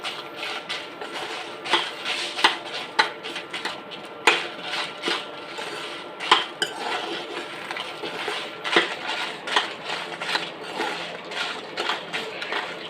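Dried red chillies fry in a pan for a purslane chutney, making a busy crackle. Irregular close ticks, pops and metallic spatula clinks come and go.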